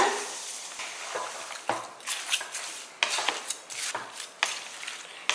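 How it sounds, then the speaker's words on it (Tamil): Salt is stirred into citron pickle in a bowl, with a utensil scraping and clinking in repeated close strokes, loud and rhythmic, and no voices. "சேர்த்து நல்லா கலந்து விட்டுருங்க"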